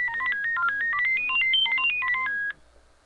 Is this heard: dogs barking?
no